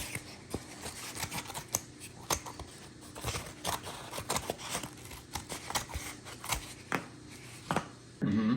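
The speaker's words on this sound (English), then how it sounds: "Just use scissors." Repeated crisp snips and crunchy cutting sounds as scissors cut a cardboard egg carton, close up, with rustling of stiff cardboard between cuts.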